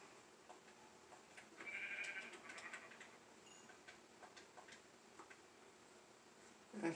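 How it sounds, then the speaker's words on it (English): Sheep in Minecraft bleat in a short burst of faint, game-style calls, with a steady soft background and a few light ticks throughout. "Come back here, sheep."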